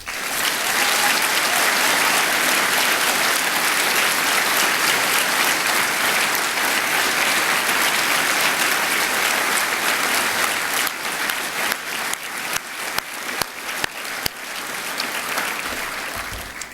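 A graduation ceremony audience of graduates, families and friends applauds staff with a loud, sustained roar of clapping that later breaks up into uneven, scattered claps before it thins out.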